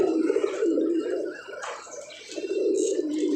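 Several female pigeons coo in a steady, low, rolling murmur close by, with a brief lull partway through before the cooing swells again.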